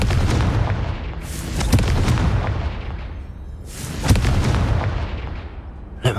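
Confringo blasting spells go off in Hogwarts Legacy: two loud, booming explosions a few seconds apart, each with a sharp crack followed by a long, fading rumble.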